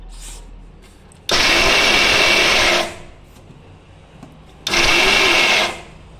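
A mixer grinder coarsely grinds nuts, two loud whirring bursts of roughly a second and a half each, separated by a quieter pause with faint background hum.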